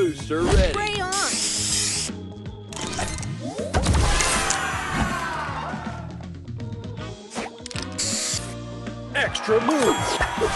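A spray booster effect in a sticker-trading mobile game fires several hissing spray bursts mixed with swooping chimes and rattling effects, while a cheerful voice announces things over the busy game sounds.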